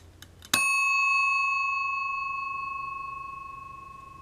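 An old timer's bell rings once, loud and close, after a couple of faint ticks, a clear metallic ding that decays slowly into a long, pure ringing tone.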